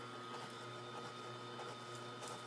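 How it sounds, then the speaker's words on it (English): A masticating juicer hums quietly at low volume, a soft steady motor drone with faint periodic creaks from the turning auger. "So turn on my juicer."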